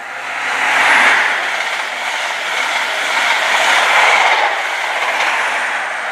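A Great Western Railway train on the Great Western Main Line passes through West Drayton station with a broad, steady rushing roar that swells and eases slightly, loud and close with no talk.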